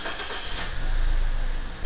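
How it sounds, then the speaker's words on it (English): A car engine catches after a jump start, its rough cranking giving way to a steady low running hum that grows louder and settles into an idle, heard close up with no talk. "I can start the engine"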